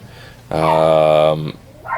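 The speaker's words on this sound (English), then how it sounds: "And if you're hearing that barking in the background, I greatly apologize. Apparently my dog is going off somewhere about something" A pet dog somewhere in the house lets out a single drawn-out, tonal bark or yowl lasting about a second, loud and clear, with fainter indoor noise before and a short softer sound after.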